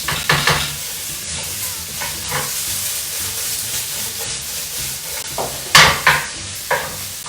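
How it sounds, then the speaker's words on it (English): Tofu and leeks stir-fry in a pan, steady sizzling and hissing broken by scraping stirs and a few louder clatters of the utensil near the end. "We're just gonna stir fry this."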